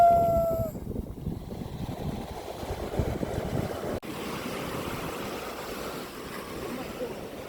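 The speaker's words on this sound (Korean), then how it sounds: "파도 오면." Ocean waves wash onto the sand at Haeundae Beach in Busan, a steady rushing surf that swells and fades, with faint voices in the background.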